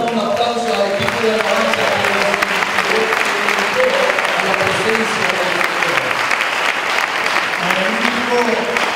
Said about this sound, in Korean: 우리 영광의 박수 드립니다.